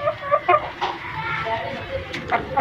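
Hens cluck in short bursts at close range on a farm in Lahore, mixed with other farmyard noise and a faint voice in the background.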